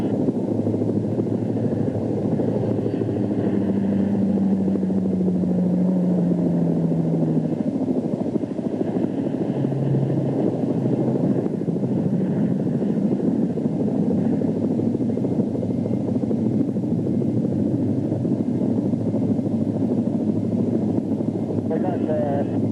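A helicopter flies during a rescue, its loud, steady engine and rotor roar filling the cabin from start to finish, while crew voices come through faintly underneath.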